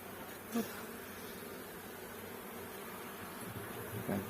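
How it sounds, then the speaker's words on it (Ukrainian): A steady insect buzz of many honeybees flying out of a hive in spring, a continuous low drone with a couple of brief closer passes. "Вулик на обльоті, бджола вилетіла."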